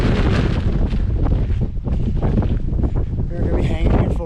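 Strong gusting wind buffeting the microphone on a foggy mountain summit, a loud continuous roar with rumbling low-end surges.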